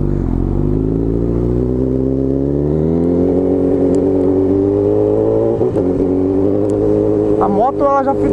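A Honda CB 1000R motorcycle fitted with a K&N air filter and a GRS titanium exhaust runs close by with a loud, steady, throbbing engine note that climbs slightly in pitch, ending with a brief clattery blip.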